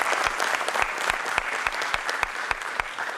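Audience at an event breaking into sustained applause, dense clapping from a crowd with a few sharper individual claps standing out, steady and fairly loud throughout.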